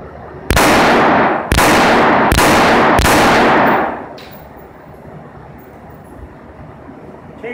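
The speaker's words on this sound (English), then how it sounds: "I'm going to go ahead and shoot the rest of this magazine at that same spot." Four loud, sharp gunshots from a handgun fired at an ICF block in a ballistic test, evenly spaced about a second apart and each ringing out briefly, followed by quiet outdoor ambience.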